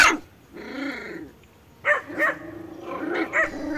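A mother dog barks and yelps repeatedly at close range near a skunk, with sharp bursts and drawn-out howling barks.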